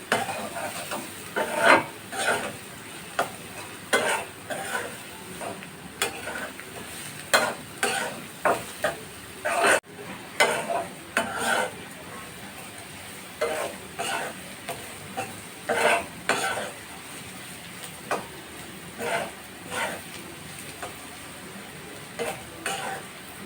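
Masoor dal with slit green chillies is stirred in a pan, the spoon scraping the pan again and again in irregular strokes over a soft sizzle, close and loud, with no voices.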